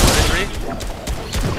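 Fortnite video game gunfire rattles out as a loud, dense fusillade of rapid shots over about a second and a half, with a player's voice mixed in.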